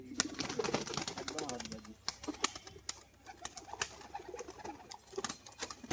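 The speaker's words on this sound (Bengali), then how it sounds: "এটা হচ্ছে মাদি পায়রাটা" Murshidabadi pigeons cooing softly in a loft, low repeated coos with faint wing and shuffling sounds, heard close under someone talking.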